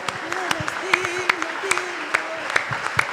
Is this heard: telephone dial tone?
no